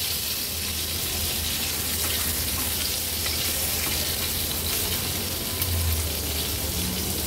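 Fish pieces fry in oil over a medium flame for an Agri-Koli style fish thali, giving a steady, loud, close sizzle that runs unbroken throughout with no talking.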